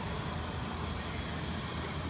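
A Sichuan Airlines airliner with a painted livery takes off, its engines giving a steady, loud, broadband roar with no break through the short stretch.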